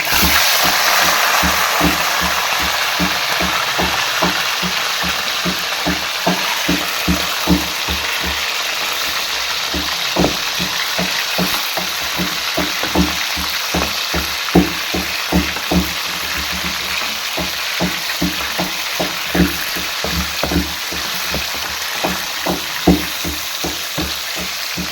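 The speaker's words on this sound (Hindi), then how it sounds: "चिकन को अच्छी तरह से हम भूनेंगे, घी में अच्छी तरह से फ्राई कर लेंगे।" Chicken frying in ghee in a karahi for white chicken karahi, a steady loud sizzle with a rapid regular pulsing throughout, close by and with no talking.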